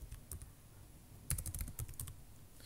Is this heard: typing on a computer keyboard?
yes